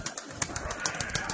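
Pigeons kept by a breeder move about at close range, giving a quick series of soft flutters and light rustles at an uneven pace, with no voices.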